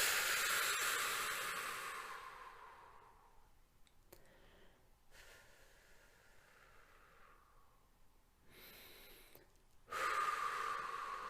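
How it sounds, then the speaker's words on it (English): Slow deep breathing for calm, with a long hissing exhale fading out over a few seconds, a quiet pause with faint breaths, then a fresh loud inhale near the end; no talking. "So please join me in taking a few deep breaths."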